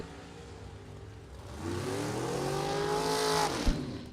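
A rear-engine dragster at a bracket drag racing nationals strip roars past, its engine note building and rising in pitch, loud and close, with no talk.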